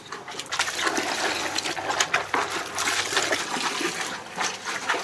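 Water poured and splashed over soybeans being rinsed during tempeh making, a steady close gushing and trickling pour that runs on without a break and is heard alone.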